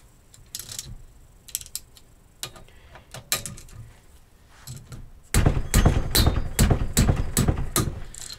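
A ratchet wrench cracks loose bolts on the manifold of an Interpump W3523 pump, first in scattered clicks and thunks, then in a louder, rapid run of ratcheting strokes close by.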